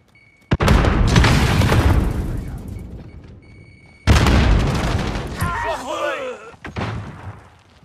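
Two frag grenade explosions in Call of Duty: Modern Warfare, each a loud close boom with a long rumbling decay, the second followed by short warbling game sounds and a brief voice callout.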